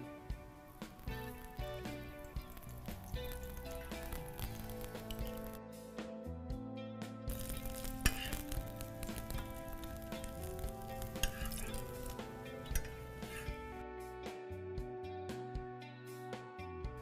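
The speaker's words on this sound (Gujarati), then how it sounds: "ઘી થી શેકી લઈશું." A small malai paratha pan-roasts in ghee with a dense, continuous sizzle and crackle, broken by soft scraping and turning sounds throughout; no voices.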